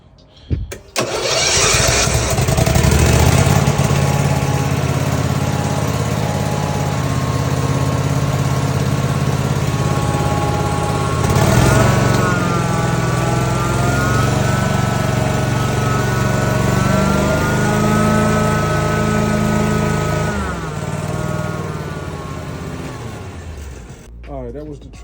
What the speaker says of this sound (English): All right, that was the truck mount, all right?